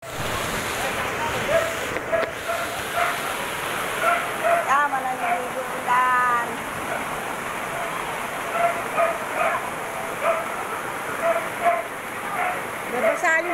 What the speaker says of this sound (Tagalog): ang lakas ng ulan dito